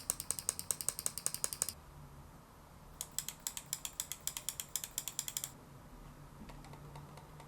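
Soft, quiet clicks from a Logitech MX Ergo S mouse come in quick rhythmic runs: a burst of about a dozen, a pause, then another longer series and a few fainter clicks at the end, all close and alone.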